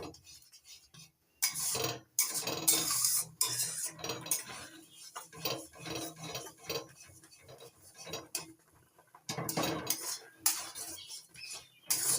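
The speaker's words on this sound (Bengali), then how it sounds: "সুজি ঢেলে দিচ্ছি আস্তে আস্তে আর নাড়তে থাকছি" A metal spoon clatters and scrapes as semolina is stirred into boiling water in a pan, in close, irregular bursts of scraping and knocking separated by short pauses.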